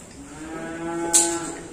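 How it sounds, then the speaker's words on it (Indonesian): A Friesian Holstein bull calf at a cattle dealer's pen gives a single drawn-out moo, loud and close, swelling slightly near its end against quiet background noise. "Jenis FH jantan ini ya."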